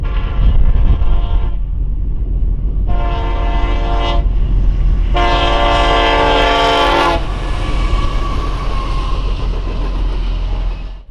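A Union Pacific freight train rumbles loudly past in rural Indiana while its horn sounds in three long blasts, the last one longest, over a constant heavy roar of rolling wagons.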